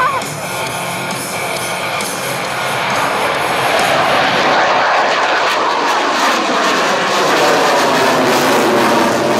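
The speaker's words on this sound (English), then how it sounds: "And now from the left, the MiG-29." MiG-29 Fulcrum jet fighter flying past at an air show, a broad roaring whoosh that swells and stays loud as it passes, with a faint announcer voice early on.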